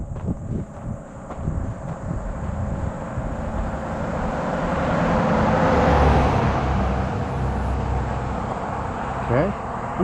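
A truck approaching on a rural road at a geological field site, a broad engine and tire roar swelling steadily toward a peak then easing, with wind and faint shuffling nearby.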